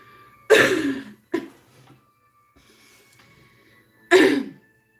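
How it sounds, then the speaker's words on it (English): Three separate coughs, two close together and then one more after a pause, fairly loud and nearby, with quiet breathing between them. "Laughing is bad for my cough."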